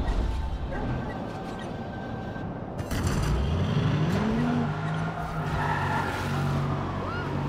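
A car in Watch Dogs 2 revs hard, its engine pitch sweeping up and holding high alongside tire squeal and skidding, loud, with someone talking over parts of it.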